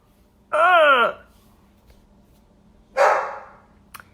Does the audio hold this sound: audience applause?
no